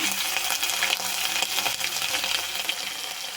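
Ginger garlic paste frying in a chicken curry pan, a steady close sizzle with faint stirring and clinking throughout, no talking.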